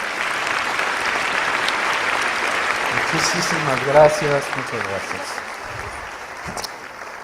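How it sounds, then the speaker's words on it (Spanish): Steady applause from a conference audience fills the hall, a continuous roar of clapping that carries on throughout while a voice speaks briefly over it. "Un fuerte aplauso, por favor."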